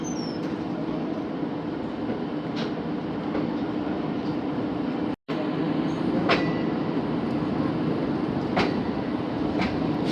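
A Pakistan Business Express passenger train, heard from inside an AC Standard coach, pulls out of Bahawalpur railway station with a steady rolling rumble. Occasional faint wheel clicks sound at intervals, and the noise drops out briefly midway.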